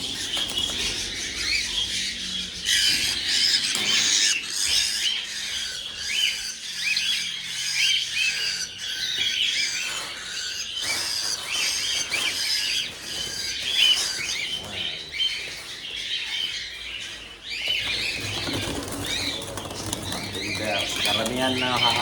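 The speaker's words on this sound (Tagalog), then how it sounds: "So ayan mga kaibon." A crowd of silver pigeons squawks, squeals and coos continuously at close range in a busy flock, with people talking intermittently over the calls.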